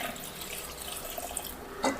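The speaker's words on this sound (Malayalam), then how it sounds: "പിന്നെ ഇത് വേവിക്കാൻ ആവശ്യമായ വെള്ളവും നമുക്ക് ഒഴിച്ചു കൊടുക്കാം." Water is poured into a cooking pot of prawns with turmeric and salt for a Kerala-style theeyal, with a soft continuous trickle and splash and a brief louder splash near the end.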